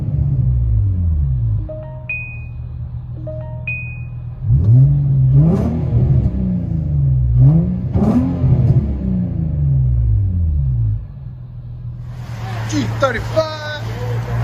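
Engine of an Infiniti G35 revs inside the cabin, a steady low rumble rising in a few surging pulls, with people talking over it and a higher whine near the end.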